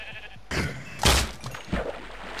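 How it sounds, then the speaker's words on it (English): Sheep in Minecraft give a few short bleats with louder bursts at intervals, close by, over light game background sound and no speech. "Kill this sheep."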